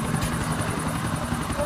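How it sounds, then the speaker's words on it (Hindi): A helicopter flies in the video game GTA: The Ballad of Gay Tony, its steady rotor chop and engine drone filling the clip loudly and continuously at close range. "देखो हेलीकॉप्टर का सीधा ले जाना है उस पार।"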